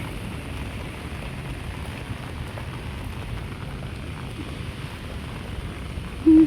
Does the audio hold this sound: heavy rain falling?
yes